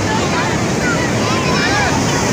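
Sea waves surge and wash steadily at Turtle Beach in Karachi, a loud, unbroken roar of surf mixed with wind noise on the microphone, close and continuous.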